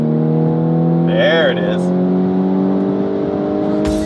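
Audi S4 B8 with DSG gearbox accelerating in second gear from a rolling start, engine tone climbing steadily and loud for several seconds inside the cabin, with a brief spoken remark over it.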